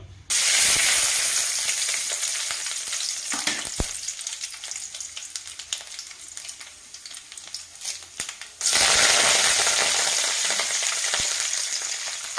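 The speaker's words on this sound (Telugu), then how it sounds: "ఇప్పుడు దీనికి తాలింపు వేసుకున్నాం" Tempering sizzles loudly in a pan for mung dal and raw mango chutney, a bright, hissing fry close up that eases for a while, then surges back to full intensity.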